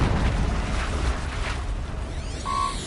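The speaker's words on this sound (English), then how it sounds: "An explosion." An explosion in the video game Horizon Zero Dawn bursts as a broad, rumbling roar that fills the moment, followed by a brief mechanical whine.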